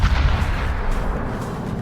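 Heavy naval guns of the battleship Kremlin firing at a Yorktown carrier in a naval warfare video game, deep booming salvos rolling together, loud and close with no talking.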